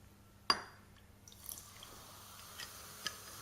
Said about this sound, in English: So if I put some cider vinegar,